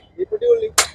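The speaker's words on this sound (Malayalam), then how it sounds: "നമ്മളൊരു വെടിവെക്കാൻ പോവണേ" A short voice speaks briefly, followed by a single sharp, loud crack of a toy cap gun firing close by at a livestock market.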